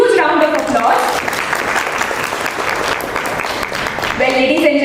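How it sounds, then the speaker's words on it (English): An audience at a company IPO celebration event breaks into sustained applause, a dense and fairly loud wash of clapping, with a voice speaking over it at the start and again at the end. "Huge round of applause."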